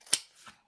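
A single snip of scissors cutting paper for an envelope kit is followed by a softer second cut, close up and brief in a quiet room.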